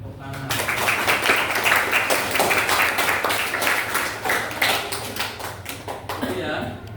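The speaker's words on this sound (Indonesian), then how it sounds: "Terima kasih, tepuk tangan." An audience claps at a talk, a dense burst of applause that starts abruptly, holds steady for several seconds, then thins and stops.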